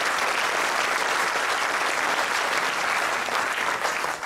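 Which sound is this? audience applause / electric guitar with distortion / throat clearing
audience applause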